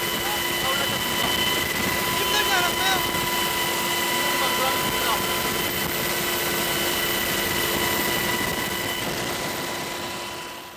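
A military helicopter flies overhead at a Korean Armed Forces anniversary event, its continuous loud rotor and engine roar steady throughout, with brief faint voices beneath the drone.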